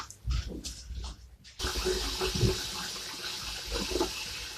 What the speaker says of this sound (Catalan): deixarem l'aixeta oberta fins que ragi un poc i posarem l'aigua que surti calenta